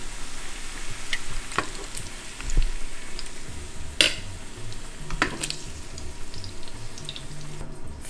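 Bacon frying in a pan on a home stove during burger making gives a steady, close sizzle with scattered sharp pops and crackles. No voices are heard.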